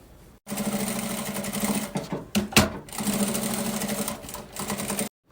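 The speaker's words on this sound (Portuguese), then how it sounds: "a gente vai passar uma costurinha só de segurança pra prender forro e principal" A sewing machine runs steadily, stitching a fabric lining to the main fabric, with a continuous close whirr that briefly slows and surges midway before stopping.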